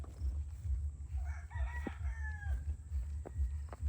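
A rooster on a small chicken farm crows once in a drawn-out, fairly distant call over a steady low hum and background noise, with a few faint clucks afterward.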